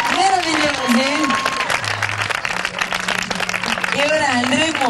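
A crowd at a regional beauty pageant final in Pesaro applauds the contestants, with sustained clapping mixed with a loud announcer voice, singing-like tones and background music.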